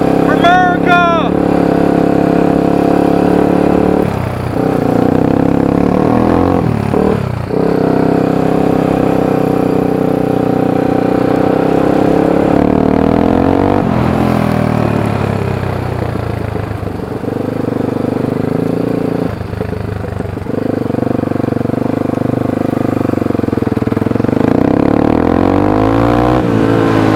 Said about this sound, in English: I just want to show you guys some good old-fashioned revs for America!